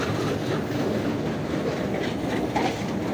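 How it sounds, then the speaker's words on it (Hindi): A train locomotive, numbered 6013 AG30, rolls closer with a steady, dense rumble and faint rhythmic wheel clatter. The sound is loud and continuous, with no voices. "आ रहा है हमारा लोकोमोटिव, जो हमारा ट्रेन लोकोमोटिव साथ में जाएगा, 6013 AG30"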